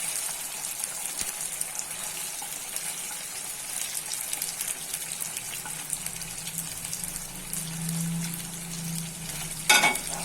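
Chicken frying in hot oil in a kadai for chicken pickle, a continuous crackling sizzle that stays steady and fairly loud, with a brief clatter near the end.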